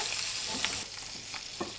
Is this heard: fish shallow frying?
yes